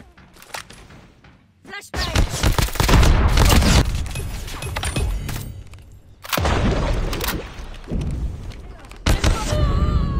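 A flashbang grenade goes off in a shooter video game, heard as loud, close, booming bursts with crackling gunfire-like blasts in several heavy clusters, under occasional talk.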